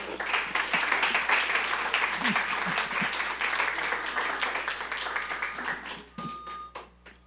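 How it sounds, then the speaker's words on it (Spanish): A church congregation applauds the Lord in a dense, steady wash of clapping that fades toward the end, with a few faint voices underneath. "¿Le podrá dar un fuerte aplauso al Señor?"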